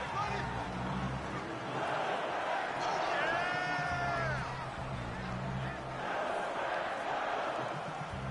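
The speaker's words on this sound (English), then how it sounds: "the crowd getting into it as we come up on a big 3rd down" A stadium crowd in a football video game rumbles in a loud, continuous roar during a Bears at Packers matchup, with a brief rising whistle-like tone partway through and a voice faintly present beneath.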